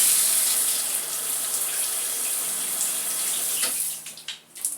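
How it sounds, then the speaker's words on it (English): Water runs steadily from a tap onto Type 4 hair during a wash-and-go styling routine, a continuous close hiss that breaks into splashes and drips near the end, with no talking. "So I am going to tap it with a little bit of water."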